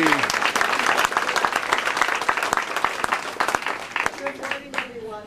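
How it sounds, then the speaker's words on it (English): Loud audience applause at a fundraiser fills the room with dense, steady clapping that tapers toward the end, with a voice beginning to speak over it as it fades. "Give her a big round of applause."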